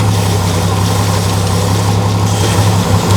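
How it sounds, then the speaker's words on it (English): Willys jeep fitted with a PS1000 electric-over-hydraulic power steering kit and Saginaw pump, a steady close engine idle with a low constant hum and no talking. "it steers and sounds just like every other normal vehicle that you would see with the Saginaw power steering pump and the PS1000 power steering kit"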